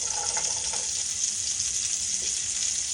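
Cubes of sweet potato and pork fry in a hot pan with a steady, bright sizzle, while faint stirring scrapes and bumps break through now and then.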